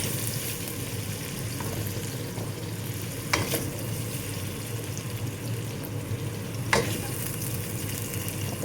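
Garlic and onion sauté in hot oil for a homemade beef stew, a steady close sizzle with occasional stirring clinks and scrapes against the pan, with no talking.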